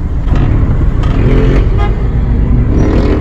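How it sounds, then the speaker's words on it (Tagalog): Car traffic at Glorietta in Makati, a dense steady rumble of engines heard from inside a car, with faint distant horn-like toots. "Daming sasakyan ngayon sa Glorieta."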